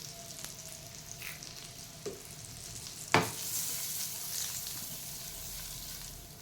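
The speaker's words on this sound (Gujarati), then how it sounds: "બટાકીને આવી રીતે આપણે મીડિયમ તાપે શેકી લેવાની." Potatoes fry with turmeric in a pan over medium heat, giving a soft continuous sizzle with occasional stirring clinks and one sharper scrape, fairly quiet and close.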